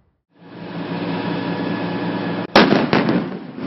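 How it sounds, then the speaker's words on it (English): An M109 Paladin howitzer fires a round during calibration fire by a field artillery battalion, a steady engine drone followed by a single sudden loud blast and a rolling echo. "Soldiers from 3rd Battalion, 82nd Field Artillery brush up on their skills as they fire their M109 Paladins"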